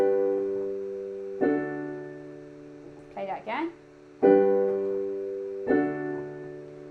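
Two sustained chords of a plagal cadence ring out, then a short spoken phrase, then the same two chords repeat, each struck cleanly and left to decay.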